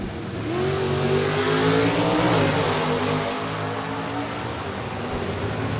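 A Factory Superstock drag racing car's engine roars as it accelerates down the strip at Maple Grove Raceway, loud and rising in pitch before settling into a sustained high-revving howl.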